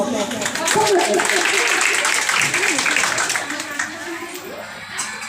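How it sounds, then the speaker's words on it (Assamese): An audience claps loudly for a Bihu teacher at a Bihu workshop in Sivasagar. The dense, steady applause fills the space, with voices murmuring underneath, and it thins out slightly toward the end. "তেওঁৰ কাৰণে এটা খুব ডাঙৰকৈ আপোনালোকে হাত চাপৰি দিয়ক"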